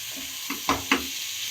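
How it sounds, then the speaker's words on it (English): Marinated prawns sizzle in a hot pan, a soft steady frying hiss broken by two or three quick stirring scrapes. "Then we are adding in the marinated prawns"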